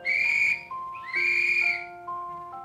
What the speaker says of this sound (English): It's a whistle, of course.